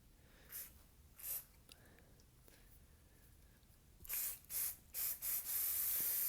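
Short hissing blasts from an aerosol can of Discovery Products Carbon Off cleaner sprayed onto a cooking pan, two spaced apart, then a quick series of sprays ending in one long continuous spray.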